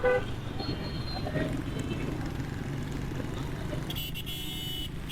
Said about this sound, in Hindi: एक के बाद एक हॉर्न बजा रहे हैं लोग